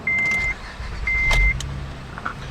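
Two electronic chime beeps, then a short starter crank as the 3.2-liter V6 of a 2008 Acura TL catches and settles into a low, quiet idle.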